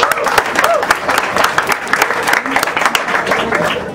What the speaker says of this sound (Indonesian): Maka mari kita berikan aplaus yang paling meriah untuk Munir.